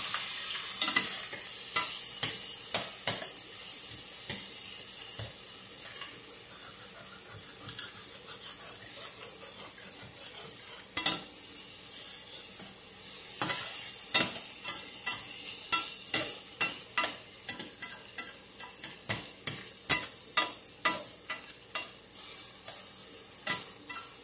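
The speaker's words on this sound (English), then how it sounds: "I'm scraping all the brown bits off the bottom as I'm stirring this up." Apple and butternut squash hash stirred and scraped in a skillet, a steady high sizzle of frying under repeated clacking scrapes of a utensil across the pan bottom, growing more rhythmic toward the end.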